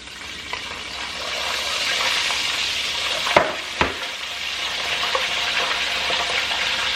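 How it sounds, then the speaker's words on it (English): Steady crackling sizzle of chicken frying in hot grease, with two sharp pops of spattering grease partway through as water hits the oil. "that's what it sounds like when water gets in your grease"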